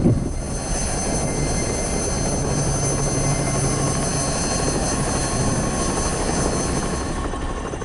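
Helicopter flying overhead, a steady broad rotor and engine drone holding at an even loudness throughout, with no voices.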